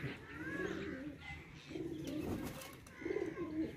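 Soft, rounded cooing of pigeons repeating in short phrases, fairly close, with faint background noise between the calls.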